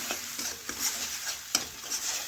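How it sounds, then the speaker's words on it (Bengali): Mustard paste with turmeric, chilli and cumin powders frying in a pan, giving a soft, quiet sizzle under repeated light scrapes and taps of a spoon stirring the mixture. "এ দেখুন নাড়াচাড়া করে ভালোভাবে একটু মিশিয়ে নিচ্ছি"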